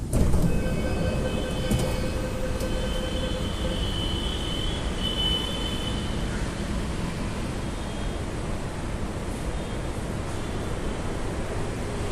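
Steady rumble of a Delhi Pink Line metro train riding between stations, heard from inside a nearly empty carriage, with faint high-pitched squeals and hums over continuous track noise and no talk.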